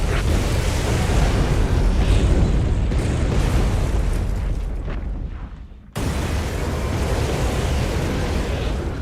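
Artillery fire and explosions in the World War II strategy game Codename: Panzers, a dense roaring barrage of booms and blasts, loud and continuous, cutting out briefly before the rumble resumes.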